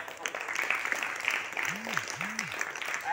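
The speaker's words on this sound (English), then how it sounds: "okay, a big round of applause" Audience applause at a school International Yoga Day music-and-yoga event, a steady wash of clapping lasting throughout, with a voice or tonal sound rising briefly underneath near the end.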